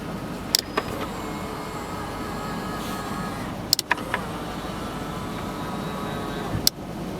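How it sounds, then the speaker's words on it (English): The power side mirrors on a 2001 Lexus LS 430 fold, making a steady low motor whir inside the car, marked by a few sharp clicks at the start and end of the movement. "This controls your mirrors folding up."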